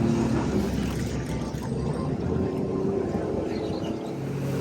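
Speedboat engine droning steadily on a river near the old Demerara Harbour Bridge by Georgetown's Stabroek Market stelling, a continuous mid-distance motor hum with water wash and no break.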